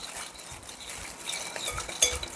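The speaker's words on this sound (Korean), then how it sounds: "골고루 저어주시고" A spoon stirs seasoning sauce for a buckwheat noodle dish in a bowl, making faint soft scraping and light clinks, with one sharper clink near the end.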